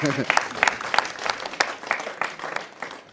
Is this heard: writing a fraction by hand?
no